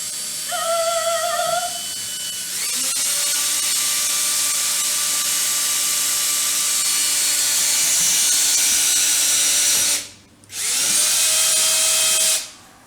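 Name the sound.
power drill drilling a hole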